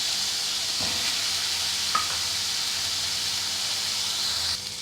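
Chinese onions fry in oil with ginger and garlic, giving a steady close hissing sizzle with a few stirring clinks and scrapes and no voices.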